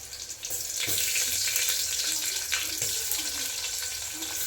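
Garlic, green chili and onion fry in a pan with a steady, close, crackling sizzle and hiss throughout, broken by a few soft clinks.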